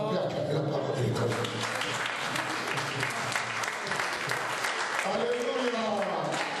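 Church congregation applauding steadily and loudly through a service, dense continuous clapping with some cheering voices rising near the end.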